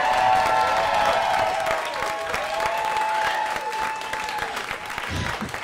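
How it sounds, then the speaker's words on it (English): A New York variety show audience breaks into loud, sustained applause with scattered cheers, dense clapping filling the room throughout. "Can we get a bigger round of applause"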